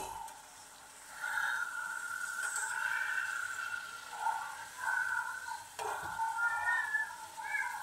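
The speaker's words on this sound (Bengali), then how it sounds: "এবার এই মাছগুলোকে আবারও আমি উল্টিয়ে পাল্টিয়ে দিচ্ছি।" Fish sizzling and frying in a pan for a fish bhuna, with steady crackling broken by soft clinks and scrapes as the pieces are flipped one by one.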